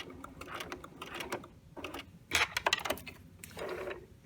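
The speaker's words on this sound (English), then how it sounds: "I'm going to back stitch." A sewing machine runs short back-and-forth bursts while back stitching a fly zipper on a garment facing, a quiet mechanical clatter with brief pauses and a louder rattle near the middle.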